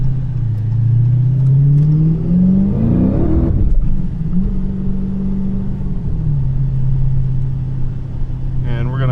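A supercharged 426 Hemi V8 with a Whipple blower revs loudly, its pitch climbing to a peak, cutting off sharply, then settling back into a steady, heavy idle rumble close by.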